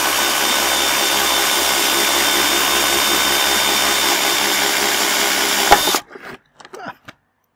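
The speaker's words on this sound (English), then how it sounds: "I have my very long 12 millimeter drill." A long 12 millimeter drill bit bores steadily with a loud, continuous whirring drone for several seconds, then stops abruptly, followed by a few short knocks and handling sounds.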